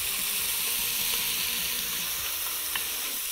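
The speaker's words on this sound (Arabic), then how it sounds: "وطبعا الفراخ مش لازم تستوي سوى كلي لانه احنا هنغلي الشوربة. تعالوا نضيف عليها البصل" Chopped onion hits a hot pot of chicken for a chicken, mushroom and onion soup, producing a loud, continuous close-up hiss of sizzling oil.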